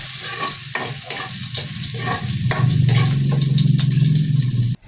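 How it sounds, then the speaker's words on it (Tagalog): Garlic sautéing in a pan after eggplant and tofu were fried, a bright steady sizzle with repeated clacks of stirring, growing louder near the end before stopping abruptly. "igisa na natin yung bawang"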